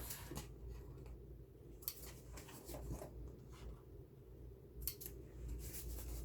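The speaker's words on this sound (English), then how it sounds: "I don't usually use these big scissors for this" Large scissors cutting paper for a junk journal, several crisp snips and slicing strokes in a quiet room, close and fairly faint, with no voice.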